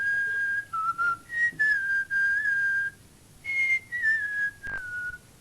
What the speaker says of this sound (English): Let's try whistling this